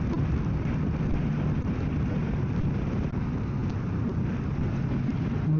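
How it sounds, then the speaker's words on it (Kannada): Heavy rain pours down during a summer motorcycle ride toward Gokarna, a dense, steady roar of rain mixed with wind rush and engine drone, continuous and loud throughout with no talking. "ಓಹೋ, ಮಳೆ ಜೋರಾಯಿತು."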